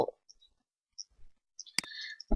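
A computer mouse gives a few sparse, sharp clicks up close in a quiet room, separated by short silences, as someone works in GIS software.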